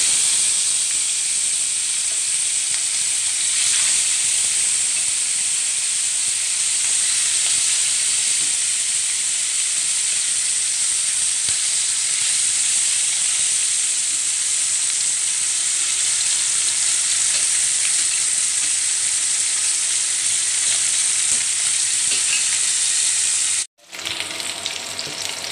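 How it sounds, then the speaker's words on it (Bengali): Small tapashi fish frying in hot oil in a frying pan, a loud, steady sizzle and crackle running for a long stretch, cutting out briefly near the end before resuming. "চুলায় একটি ফ্রাই প্যান দিয়ে দিয়েছি, তেল দেওয়া আছে, দিয়ে দিচ্ছি মাছগুলো।"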